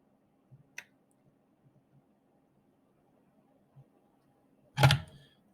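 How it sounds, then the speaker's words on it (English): Clamp snapping shut on a part during assembly of a PVS 69 night-vision device, a sharp loud clack near the end after a few faint small clicks in a quiet room. "I'm going to clamp this down."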